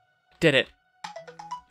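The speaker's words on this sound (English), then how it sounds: "that's a phone" Phone ringtone with a steady tonal hum running under it, heard beside a talking voice that breaks in with brief exclamations around the ring.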